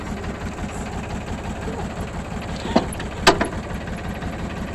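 A tractor engine idles in neutral on a farm training ground, a steady mid-to-low rumble throughout with a couple of brief metallic clanks partway through.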